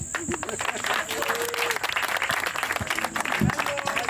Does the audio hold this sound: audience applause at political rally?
yes